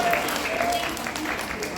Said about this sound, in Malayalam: പാപ്പയ്ക്ക് നല്ലൊരു കയ്യടി കൊടുത്തേ.